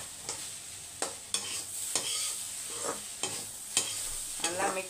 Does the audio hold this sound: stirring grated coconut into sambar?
yes